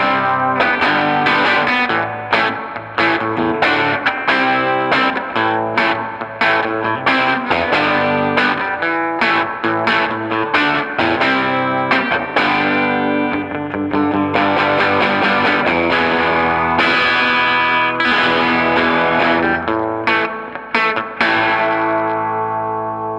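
An electric guitar plays through a Supro 88-T and Magnatone 460 amp with the bright switch on, giving a loud, distorted, chorus-tinged tone. The strumming and picking run continuously and up close, with no talking over it.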